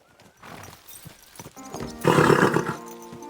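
A horse in Kingdom Come Deliverance 2 snorts and lets out a loud neigh amid hoof clops, building from soft movement to a strong burst near the end.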